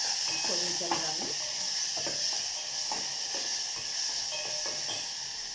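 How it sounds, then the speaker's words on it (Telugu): Tomato pieces sizzle in a hot cooking pan with a constant hissing fry and a few soft stirring scrapes, close by. "అందులో టమాటా ముక్కలు వేస్తున్నాను."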